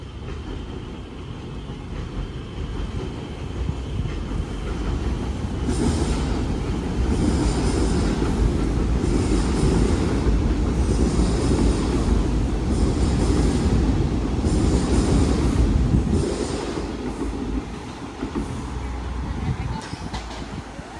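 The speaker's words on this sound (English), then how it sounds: "here comes an eastbound train" Eastbound subway train pulling into Dundas West Station in Toronto, a steady rumble of rail wheels and cars building and holding loud for several seconds, with squeals and clatter, then easing off as it stops.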